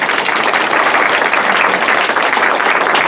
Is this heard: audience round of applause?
yes